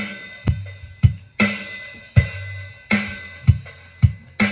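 A steady drum beat with punchy kicks and a deep bass, repeating in a regular groove with crisp hits on top.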